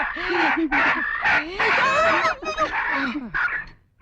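A chicken clucks and a rooster crows in short, rising calls, close and loud, with brief pauses between them.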